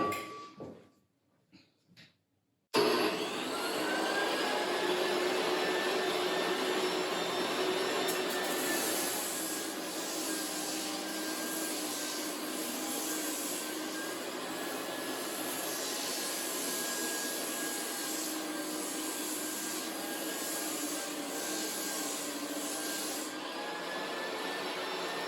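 A drum sander running steadily on an old wood floor, a loud sustained whirring grind with a faint tonal whine, starting abruptly after a few brief knocks and continuing alone.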